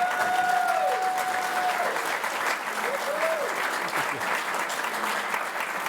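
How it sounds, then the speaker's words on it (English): Theater audience at a Paley Center premiere event claps steadily and loudly throughout, a dense sustained wash of applause with faint voices mixed in. "But they didn't have to clap like that"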